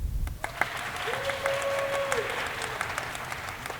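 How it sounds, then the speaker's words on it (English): An audience claps loudly on cue, a dense burst of applause filling the room while a voice talks over it. "when you see the applause sign, clap loudly"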